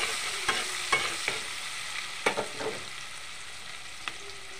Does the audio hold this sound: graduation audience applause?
no